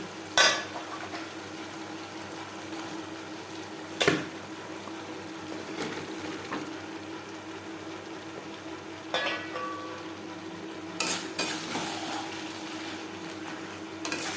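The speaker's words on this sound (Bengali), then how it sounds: "মাছের তেলের সাথে বেগুন বেশ ভালো করে মিক্সড করে দেব।" Eggplant pieces frying in bhetki fish oil with spices, a steady close sizzle running throughout, with occasional louder clanks and scrapes of a spoon stirring the pan, and no speech.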